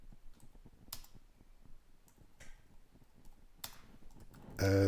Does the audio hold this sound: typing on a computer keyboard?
yes